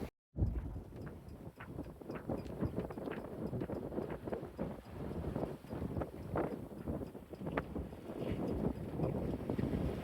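Steady southeasterly wind rushes past a sailboat under way, a continuous broadband roar with gusting swells and faint creaks and water sloshing, no talking.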